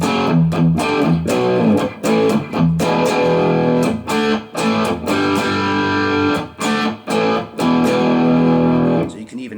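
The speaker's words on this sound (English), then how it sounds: "it's just got a great full-bodied crunch tone to it" Electric guitar through a crunch distortion pedal into an Orange Crush practice amp set clean, with open-position chords strummed in a steady rhythm, giving a loud, full-bodied, moderately driven crunch.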